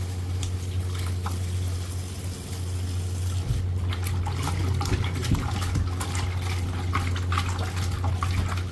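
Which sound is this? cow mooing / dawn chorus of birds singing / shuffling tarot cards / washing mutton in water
washing mutton in water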